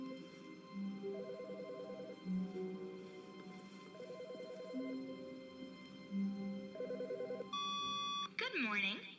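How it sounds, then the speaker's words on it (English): In The Stanley Parable video game, a telephone rings in three repeated trilling bursts spaced a few seconds apart over a quiet background, followed by a brief electronic tone at the end. "I heard a phone."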